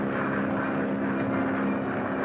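Aircraft engine of an early-1940s airplane in flight, a steady loud droning hum with no breaks, heard alone without talking.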